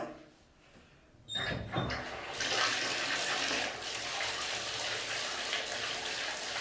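A bathtub fills for a bubble bath as a tap opens after a quiet start, the water gushing steadily and loudly, with a short knock and clatter near the beginning.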